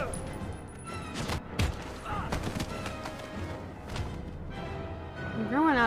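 Gunshots ring out in the video game Heavy Rain, sharp bursts scattered through the stretch over dense game music and effects, with a loud sweeping sound near the end.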